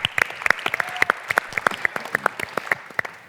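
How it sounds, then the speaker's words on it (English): Sparse, uneven clapping from a small audience at a university award announcement, individual claps ringing out separately rather than as a full ovation. "applaud her much louder than that next time"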